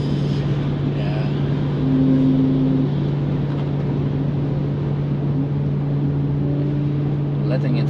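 A Tesla Model S Raven electric car coasts on a race track, giving a steady, fairly loud hum of road and wind noise with a constant tone and brief faint whines, while people talk over it.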